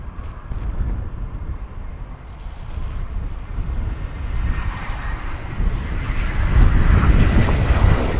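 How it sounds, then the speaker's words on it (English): A private jet at Bristol Airport roars in strong wind, a steady broad engine rumble mixed with gusting wind buffeting the microphone that swells louder toward the end. "Let's see how the private jet's gonna go."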